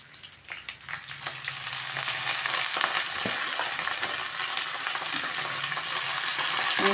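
Washed ponnaganti greens hit a hot frying pan, and the sizzle swells from moderate to a dense, steady crackle with light stirring sounds throughout.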